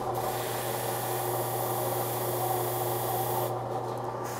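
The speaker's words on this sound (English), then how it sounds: "we chuck it up on a small spinning device here, and that's just the way we can polish that brake up nice" A rifle muzzle brake spins on a small mandrel while being polished, giving a steady, continuous whirring rub with a constant motor hum underneath, close and even throughout.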